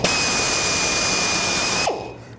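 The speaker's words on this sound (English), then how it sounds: "need to drill out these rivets right here" A power drill bores out plastic retaining rivets on the front bumper of a 2010-2017 Chevrolet Equinox, giving a steady, close whine that runs nearly two seconds and then cuts off and spins down.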